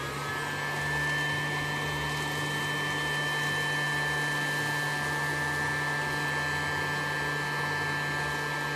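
A Casdon Dyson DC22 toy cylinder vacuum cleaner running with its small upholstery tool fitted, giving a steady, close motor whine and airflow hum that holds evenly throughout with no talking.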